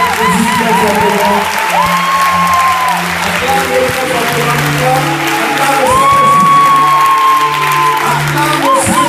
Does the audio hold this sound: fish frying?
no